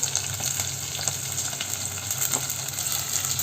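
Chopped onions frying in a pan for a dry prawn and snake gourd curry give a loud, steady close-up sizzle and crackle that continues evenly throughout.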